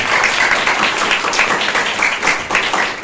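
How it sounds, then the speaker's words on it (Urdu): A church congregation at a Sunday service applauds loudly, with dense and continuous clapping that fills the whole stretch. "زوردار تالیاں لگائیں اس بات کے لیے."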